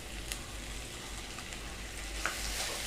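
Chopped tomatoes added to golden-browned onions for a South Indian mushroom gravy, frying with a faint, even sizzle and a couple of light spoon taps, quiet and close.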